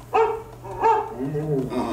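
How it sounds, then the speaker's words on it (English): An animatronic dog barks during the Disney Carousel of Progress show at Magic Kingdom, two sharp close barks followed by a lower whimpering whine, over a faint steady hum. "Don't worry, Rover. She didn't mean real dogs"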